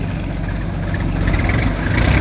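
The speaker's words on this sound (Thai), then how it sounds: "เป็นเครื่องยนต์ดีเซลนะ" A diesel tractor engine idling, a close, steady low rumble with a faint rise in intensity toward the end, no voices.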